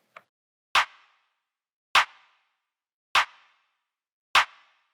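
Dry trap-beat clap with no mixing effects, four sharp evenly spaced hits ringing out alone with short decays after a tiny initial click.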